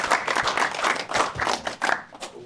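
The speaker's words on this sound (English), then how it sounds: "Let's start with the applause." Brisk applause from a small hackathon audience, irregular handclaps at moderate distance, lasting a couple of seconds without talk.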